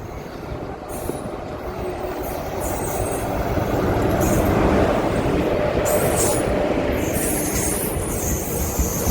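Rajkot local train pulls into a village station, a loud, close rumble of wheels and carriages building steadily, with squeals and rattling over the rails.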